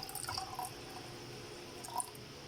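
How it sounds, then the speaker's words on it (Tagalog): Half a glass of water poured while making homemade atchara, heard as a faint, brief splashing and dripping trickle that stays low and soft throughout. "lagyan ko siya ng kalahating basong water"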